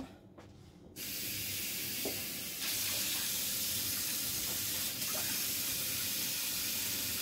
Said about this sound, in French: Je vais le rincer un petit peu.